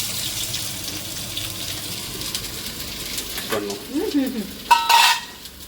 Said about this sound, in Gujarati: પેલા આપણે ડુંગળી નાખીએ